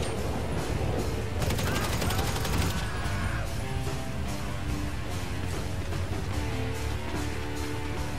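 Gunfire in the video game Grand Theft Auto V: a loud, dense barrage of rapid shots and crashes with an intense burst early on, continuing as busy chaotic noise throughout.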